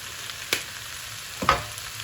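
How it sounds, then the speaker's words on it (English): Tofu and vegetables sizzle steadily in a hot pan, a close continuous frying hiss broken by a couple of brief stirring scrapes. "you can see our tofu sizzling nicely with our vegetables"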